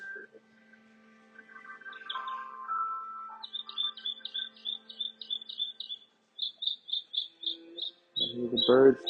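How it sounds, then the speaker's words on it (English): Repeated high bird chirps in quick rhythmic bursts, with softer calls and a low steady hum beneath; a brief louder burst near the end. "I hear the birds chirping,"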